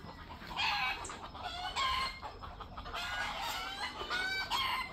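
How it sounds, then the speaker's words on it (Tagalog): Several chickens cluck and crow near one another, with repeated squawks and rooster calls coming in overlapping bursts over steady outdoor background noise. "Katuwa-tuwa manok na to. Ang dami nilang ingay."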